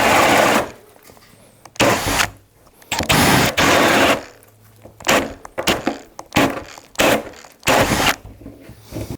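Battery power tool driven hard under load in repeated separate trigger pulls, each a loud close whirring burst lasting about a second, with brief quiet gaps between them.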